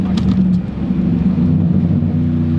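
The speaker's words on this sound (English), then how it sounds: "That's nice, it has burbles." A modified Ford Crown Victoria's exhaust rumbles loudly and close by in a steady, deep burbling drone with no talking.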